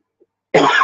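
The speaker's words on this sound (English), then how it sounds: "the coughs, I can't do them quietly" A single harsh chest cough bursts out close to the microphone after a brief near-silent pause, loud and abrupt against the quiet before it.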